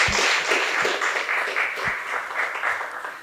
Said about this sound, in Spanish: Un fuerte aplauso para el arquitecto Takahashi.